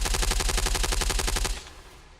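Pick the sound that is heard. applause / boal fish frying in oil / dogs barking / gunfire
gunfire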